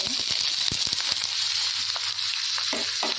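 Oil heating in a pan for a chicken dry masala gives a steady, close sizzle, with a few sharp clicks and scrapes from the pan and utensil standing out over the frying hiss.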